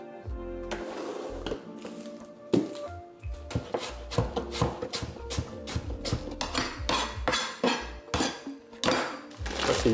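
A knife chops onions on a cutting board for Japanese katsudon, with a dense run of sharp, quick wooden knocks and scrapes from about one second on, close and loud with no talking.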